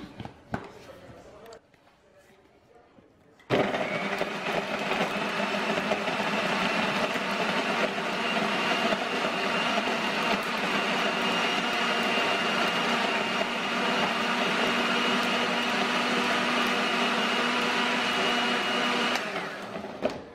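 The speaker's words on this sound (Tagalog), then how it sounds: "Blend po natin siya." A blender whirs loudly and steadily for about fifteen seconds, puréeing lechon sauce made with liver, after a quieter stretch with some voice at the start.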